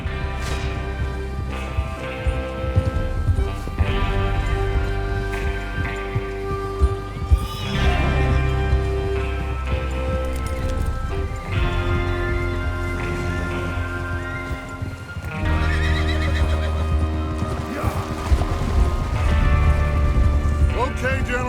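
Horses whinny and hooves clatter in a Red Dead Redemption 2 soundscape, with rain, music and occasional voices layered over a dense, continuous background.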